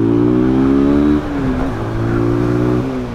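A Peugeot PM-03 motorcycle engine sitting in neutral drones loudly and close up, its pitch dropping as the revs fall, then rising slightly again near the end.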